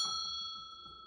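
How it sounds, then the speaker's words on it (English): A trophy bell rung once at Bells Beach, a clear metallic ding with bright sustained overtones that slowly fade over about a second. "Ring that bell."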